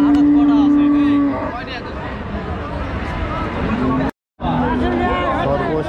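Cattle moo loudly at a dairy cow and bull market in Joypurhat, one long low call followed by further moos over constant crowd chatter and bargaining voices.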